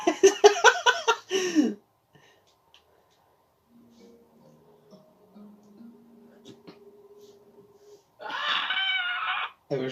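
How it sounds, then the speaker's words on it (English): A single sustained scream, loud and close, with a harsh strained quality, following an earlier burst of talk and a long near-silent stretch with faint low tones. "It was just a scream though."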